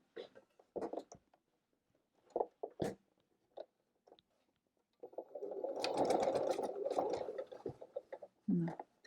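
A sewing machine stitching apron seams, with a continuous whirring run of about two and a half seconds between scattered soft handling noises and brief talk.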